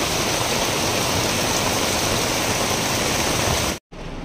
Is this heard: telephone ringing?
no